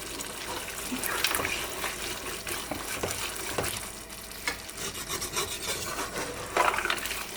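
Water pours into a pot with a steady splashing rush, mixed with light scraping and knocks nearby, no voices.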